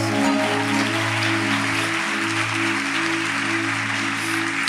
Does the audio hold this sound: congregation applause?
yes